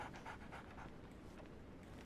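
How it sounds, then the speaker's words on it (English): Barnes's dog in the video game Sherlock Holmes: The Awakened pants steadily and quickly in a soft, breathy rhythm, close up and alone. "So, Barnes has a dog now."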